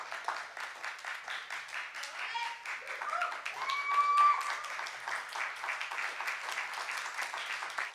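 Applause for a first-year master's recital performer, a sustained, moderately distant round of clapping from an audience with brief voices and cheers mixed in, fading out at the end.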